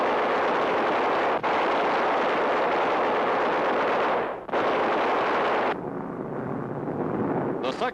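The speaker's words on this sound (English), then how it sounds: "The second time over, bombs are on their mark, and the freighter is crippled by the explosion." Bombs dropped from a low-flying bomber explode on a Japanese cargo freighter at sea, a loud continuous roar of blasts and engine noise with brief breaks and a narrator speaking over it.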